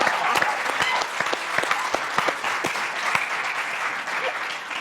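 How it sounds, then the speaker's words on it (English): Audience applause fills the room at a health-themed comedy talk, a steady wash of many hands with scattered sharper claps, continuous and fairly loud throughout, no speech over it. "You better clap for somebody."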